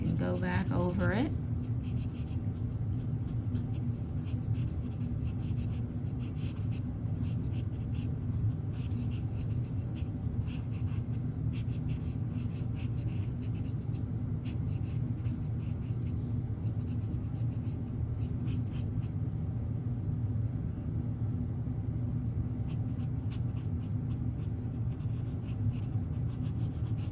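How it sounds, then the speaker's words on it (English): Colored pencil scratches and rubs steadily across paper over acrylic marker ink, a soft continuous scraping close by under a low background hum, with no one speaking. "you can use your pencils right over top of these markers"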